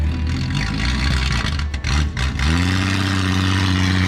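An old, abandoned Ford car engine cranks unevenly and then catches, settling into a loud, steady running drone with a rising rev, close and alone with no talking.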